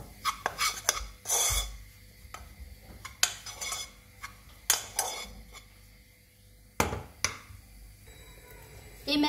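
A utensil working a flour mixture in a bowl for a meat lasagne base, giving irregular scraping and clinking strokes in bursts with quiet gaps, fairly close and without talk.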